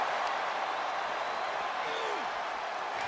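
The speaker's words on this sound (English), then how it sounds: "Listen to this crowd." Crowd noise from a WWE 2K24 ambulance match, a steady wash of arena cheering and murmur that stays even throughout while a commentator talks over it.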